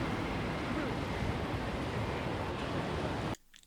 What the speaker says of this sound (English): So we've got a tram going past in Berlin.